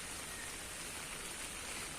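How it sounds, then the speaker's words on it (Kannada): Steady rain hisses without a break, a dense even wash of falling drops with no voices or other sounds standing out. "ಮಳೆ ಬರ್ತಾನೆ ಉಂಟು"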